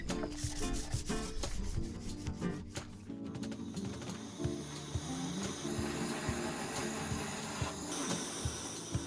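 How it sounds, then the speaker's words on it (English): Olive wood is sanded lightly by hand, giving continuous rhythmic scratchy rubbing strokes, close and fairly loud, with occasional knocks and no talking. "Light sanding"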